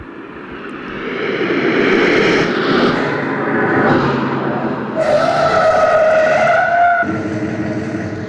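A car idles and rumbles in an interactive traffic sound installation, its engine swelling loud and steady with tonal whines and shifting pitch, heard alone without talk.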